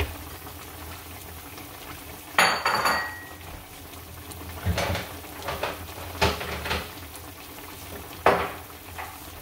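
Bowl of Filipino or Hawaiian style oxtail stew set out in a home kitchen: a few sharp ceramic clinks and knocks, scattered and fairly close, over a faint simmering background.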